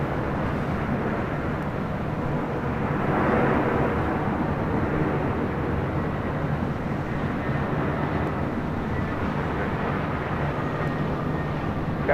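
An airliner taking off from runway 25 right at LAX, a sustained low roar of jet engines that swells briefly and then holds steady, heard at a distance with no voices.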